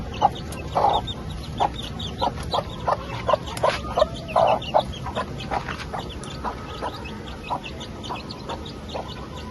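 Chickens on a rooftop terrace cluck nearby in short, repeated bursts, several birds calling back and forth over a steady background hum.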